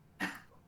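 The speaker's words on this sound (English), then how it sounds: "You hear a shadowy spot in a tree just coughing" One short, fairly faint cough or throat-clear from a person, a single rough burst that trails off quickly.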